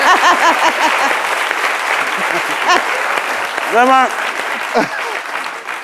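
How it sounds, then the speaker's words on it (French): A studio audience on a midday show applauds Texas Grill during a food tasting of skewers, a steady wash of clapping running under a host's lively voice. "Applaudissez pour Texas Grill"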